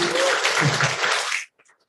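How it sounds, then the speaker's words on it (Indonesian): An audience at a pharmacy academy graduation ceremony claps together in a dense, close burst of applause that stops abruptly, leaving a few faint scattered claps. "Tepuk tangan untuk Pak Gifaldi"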